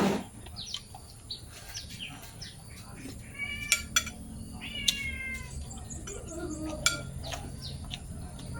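A cat meows several times in short, clear calls, with birds chirping, dishes clinking and people talking quietly in the background.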